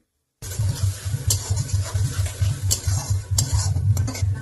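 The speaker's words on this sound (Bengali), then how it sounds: "এখন এই মশলাগুলোকে খুব ভালো করে কষে নিতে হবে" Spice paste of tomato, onion, ginger and garlic frying for an eggplant dish, with a loud low sizzle and rhythmic spatula scrapes against the pan after a brief silent start.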